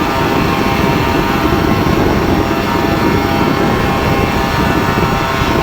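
A light aircraft with a newly fitted propeller climbs at full power after takeoff, its engine and propeller producing a loud, steady, unbroken droning roar close to the cabin, with no speech.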